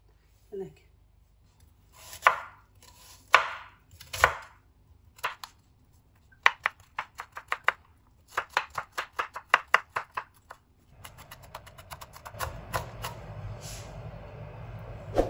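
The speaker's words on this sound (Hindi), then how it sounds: "आप ग्रीन चिली ले लें। इस तरह आपने ये काट लेनी है।" Green chili being cut with a knife on a board, a few slow strokes followed by a quick run of crisp rhythmic chops, then a softer rustling hiss near the end.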